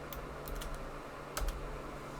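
Typing on a computer keyboard, a few soft separate key clicks and one firmer tap, faint against a quiet room hum.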